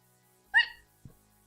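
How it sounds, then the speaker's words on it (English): A single sharp, high voiced hiccup, brief and fairly close, followed by a faint lower catch of breath in an otherwise quiet room. "Hiccups."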